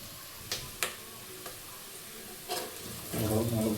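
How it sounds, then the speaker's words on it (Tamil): Mushroom gravy base sautés in a pan until golden brown, a soft continuous sizzle punctuated by a few sharp spoon scrapes and taps, then a louder burst of frying near the end, with no voices. "கோல்டன் ப்ரௌன் ஆகிற வரைக்கும் நல்லா வதக்கலாம்."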